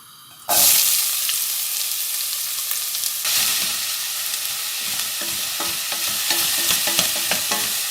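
Onions drop into hot oil in a pan for curry sauce, a sudden loud sizzle that settles into a steady crackle, followed by quick repeated scraping and stirring strokes close up, with no voices.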